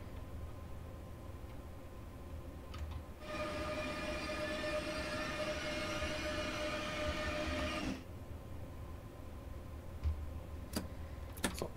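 An ICE T BR 415 train in the Train Sim World 5 game rolls along on the Tharandt incline, giving a steady, fairly loud rumble with a sustained whine through the middle stretch before it settles back to a quieter running noise.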